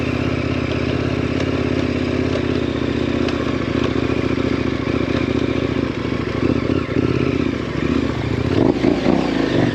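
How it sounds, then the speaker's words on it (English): An enduro or dual-sport motorcycle skid-turning around a tree off-road: a steady, loud engine drone with clattering and scraping, and a burst of revving near the end. "I just skid turned around that tree"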